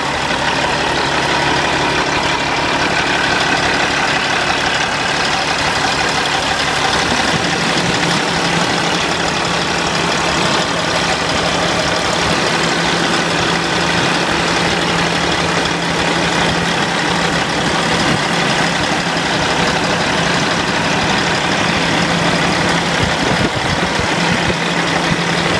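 A 2008 Peterbilt 388 highway tractor engine idles loudly and steadily, a constant low rumble throughout with no talking.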